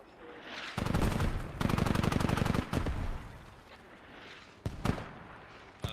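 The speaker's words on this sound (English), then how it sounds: "Mortars are way short." Mortar rounds exploding in the military shooter Squad during a competitive match, a rapid crackling barrage of blasts in two dense bursts followed by a few isolated distant booms.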